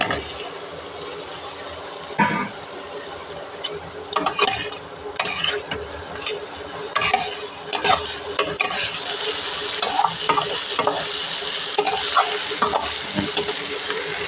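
Fried potatoes dropped into spice masala simmering in oil, setting off a loud sizzle with bursts of stirring and scraping that come and go over steady frying crackle.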